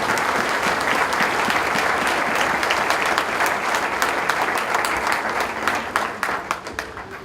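Loud sustained applause from a church congregation during a pastor's sermon, dense and continuous, thinning slightly toward the end.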